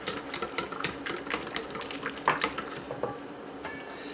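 Egg yolks, half a dozen, are beaten in a bowl with quick, rapid clicking and tapping strokes, close and fairly quiet, in an uneven rhythm with short pauses and no voices.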